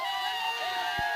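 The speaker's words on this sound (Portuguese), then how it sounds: "tá ali a festa da torcida do Maracaju" Maracaju supporters celebrating in the stands after their team's football win over Taveirópolis, a steady, dense crowd roar with cheering and shouting, sustained for a brief moment.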